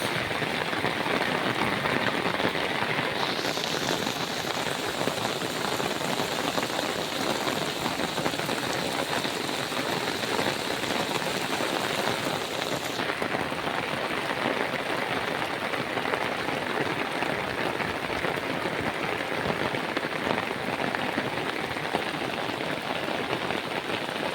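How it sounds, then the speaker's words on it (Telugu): Heavy rain pours steadily in Hyderabad, a dense, continuous hiss of drops on surfaces that stays loud and unbroken throughout with no voices. "అది భారీ వర్షాలు అయితే పడుతున్నాయి"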